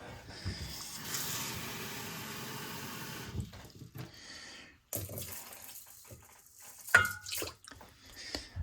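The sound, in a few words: pouring water into stir fry pan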